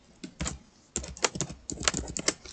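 Fingers tap out a name on a computer keyboard in short bursts of crisp, close clicks, with pauses between clusters of keystrokes.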